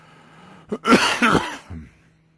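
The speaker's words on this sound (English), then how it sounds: "Sorry for this voice and this coughing" A hoarse adult coughs and clears the throat in a short close burst of several harsh hacks, the last fading quickly, with no speech.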